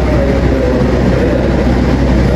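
Train pulling onto a platform track at Bandung station in Indonesia, a loud, steady heavy rumble of wheels and engine that holds constant for a couple of seconds.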